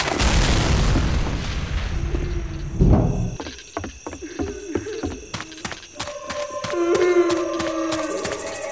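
Pipe bomb blast in the zombie shooter Left 4 Dead at a train station: a loud boom near the start, then a burst around three seconds, followed by scattered game clatter and tonal cues.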